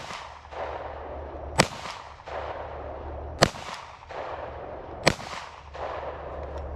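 Handgun shots ring out at a range, three sharp loud cracks spaced roughly two seconds apart, each with a short echoing decay, over a steady low background rumble.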